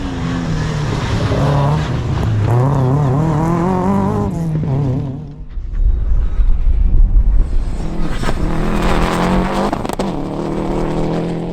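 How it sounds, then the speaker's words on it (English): Rally cars at Aghadowey, a little Vauxhall Corsa and a Subaru Impreza, roar loudly and close by. Engines rev and shift up and down in sweeping pitch, with a short dip before a second car's revving engine takes over. "in second place is Owen Kelly in the little Corsa"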